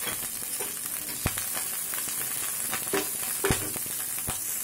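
Grated ginger and green chilli sizzling in oil with asafoetida for moong dal kachori, a continuous hiss punctuated by several sharp spoon taps against the pan, no voices.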